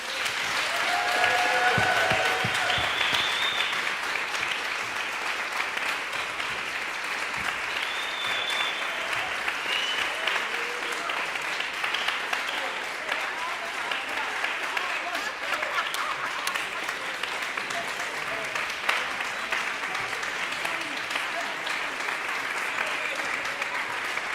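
An audience applauds after a roundtable of women at a visiting artists event with composer Jennifer Higdon, a sustained, dense crowd clapping that fills the room at an even level throughout.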